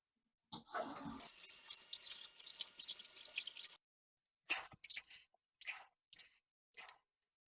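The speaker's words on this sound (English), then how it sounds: "So we're going to rinse it out as best we can first." Water splashing and sloshing in a bathtub as a tie-dyed shirt is rinsed, a steady three-second wash of running water followed by several short separate splashes and drips, close and fairly quiet, with no talking.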